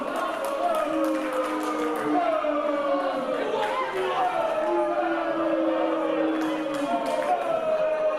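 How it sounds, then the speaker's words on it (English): A capacity wrestling crowd at the Norfolk Masonic Temple jeers wrestler Colby Corino during a rear chin lock, a steady, dense wash of booing and chatter filling the hall throughout. "As you can hear the boos rain down on Colby Corino"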